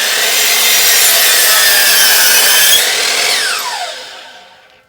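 A saw set to a 22.5 degree angle cuts through an 8-inch wooden board for a birdhouse, making a loud, close, steady rasping whine that holds for about three seconds, then drops in pitch and fades as the blade spins down.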